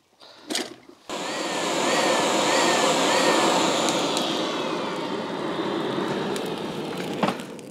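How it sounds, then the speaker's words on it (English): Forge blower running, a loud, steady whooshing roar that starts abruptly after a few knocks and holds for the rest of the stretch, with a faint tone wavering above the rush. "set up the blower."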